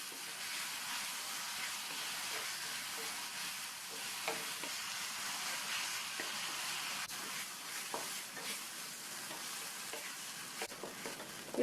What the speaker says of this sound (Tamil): இப்போ இந்த மாங்காய்க்கும் நம்ம சேர்த்துருக்க இந்த மசாலா ஜாமானுக்கும் தேவையான அளவு உப்பு சேர்த்து நல்லா 1 நிமிஷம் போல் வதக்கி விட்டுக்கணும்